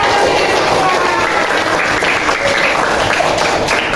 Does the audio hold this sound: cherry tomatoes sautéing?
no